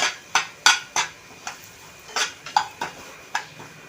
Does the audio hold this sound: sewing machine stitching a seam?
no